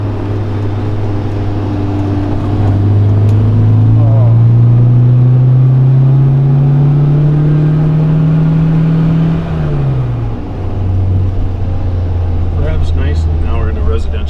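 A 1973 MGB Roadster engine drones under load while driving up a hill, pitch rising steadily as it pulls, then dropping around a gear change before settling again, loud and close, with occasional speech over it.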